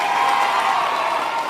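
Crowd applause at a Duterte political campaign rally in the Philippines, a steady dense wash of clapping held at even loudness without a break.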